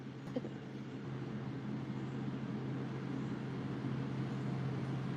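A neighbor's vehicle passes on a nearby rural road, a steady, fairly loud rumble of engine and road noise that holds with no talk over it.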